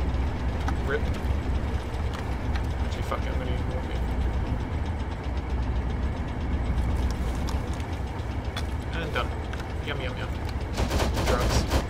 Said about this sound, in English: we're taking fire from the base again